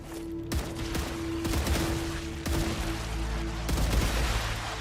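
Rifle fire in the sci-fi game StarRupture, a string of sharp, loud shots in bursts with brief gaps, close and dominant over a steady low background hum.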